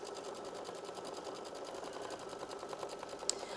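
Embroidery machine stitching a butterfly quilt block, a quiet, steady, rapid mechanical whirring with a fast even needle rhythm that continues unbroken throughout.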